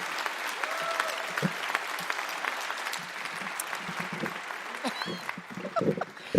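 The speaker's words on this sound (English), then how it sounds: "Yeah, you can clap for that." Steady applause from a live radio show's studio audience fills the space at moderate loudness, with scattered cheers and voices mixed in as it carries on throughout.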